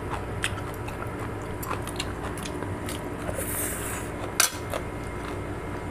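Crunchy fried water spinach (kang kung) chewed close to the mic, with soft crackly bites and one sharper crunch, over a steady background hum and no talking.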